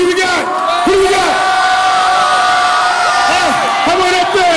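A wrestling event crowd at a TNA show in Bournemouth: loud, sustained cheering and chanting from many voices, with rising shouts and whoops repeating in waves throughout.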